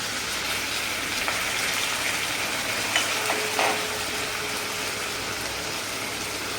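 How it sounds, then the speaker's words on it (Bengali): Water poured into a pan of frying banana flower with chili powder and cumin powder, a steady broad hiss and sizzle throughout with a few brief clinks near the middle. "এর মধ্যে এবার একটু জল দিয়ে দেবো"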